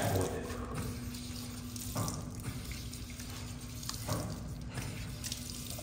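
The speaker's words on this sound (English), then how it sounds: "I'm just trying to get a nice lather going with that water" Tap water runs steadily into a sink while hands are lathered with soap, splashing and shifting in short surges under quiet room sounds.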